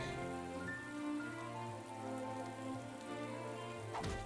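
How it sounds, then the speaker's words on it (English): Rainfall in the video game Atelier Ryza 2, a soft steady patter under a sustained musical background of held tones, quiet and continuous. "does it rain more in this game or outside?"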